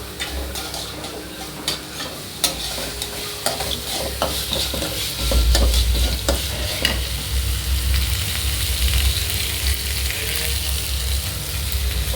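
Onions fry loudly in a pan with ginger-garlic paste, a dense crackling sizzle broken by frequent scrapes and clacks of a spatula stirring, close and continuous throughout.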